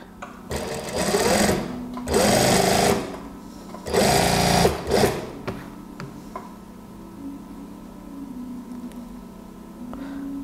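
A sewing machine stitches around the body of an A-line gamis dress in several loud bursts of rapid stitching separated by brief pauses, then falls quiet with only faint handling noise and a low hum.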